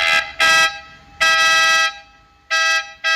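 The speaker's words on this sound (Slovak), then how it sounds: "Tento klakson je extrémne hlasný." A very loud cheap Temu car horn, wired to a Lamborghini battery, blares in four bursts, a short blast, then a longer one, a pause and two more, harsh and close with no talking.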